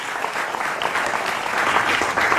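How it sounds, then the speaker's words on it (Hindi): Studio audience at a televised political debate show applauding to welcome the panelists, a dense, sustained wash of clapping that holds steady and swells slightly toward the end. "तालियों से अभिनंदन है।"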